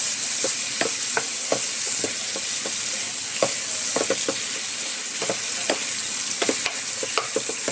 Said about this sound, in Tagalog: igisa-gisa natin hanggang sa medyo malambot at binot-binotin natin o durog-durogin